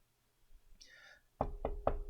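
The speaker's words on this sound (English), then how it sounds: "Knock on wood." Three quick, close knocks on a wooden surface, evenly spaced and crisp, following a brief faint voice.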